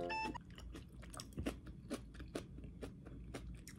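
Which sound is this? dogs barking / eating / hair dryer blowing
eating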